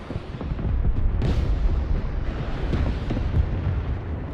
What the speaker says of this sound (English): we'll just bomb in the middle